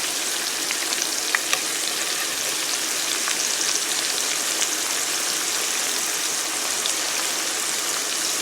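Steak meat frying in a hot pan for a Philly-style cheesesteak, a steady loud crackling sizzle with fine popping spatters continuing evenly throughout.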